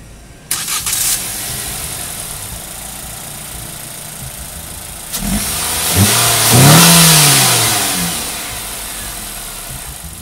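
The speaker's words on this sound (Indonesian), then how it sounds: "Put on the brake, kita dengerin dulu suara mesinnya." A Nissan Serena MPV engine cranks and starts, settles into an idle, then revs up twice with rising and falling whines, close by.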